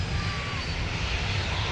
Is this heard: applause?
no